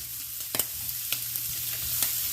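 String beans with scallions and ginger stir-frying in a pan, an even sizzle punctuated by several sharp utensil taps and scrapes.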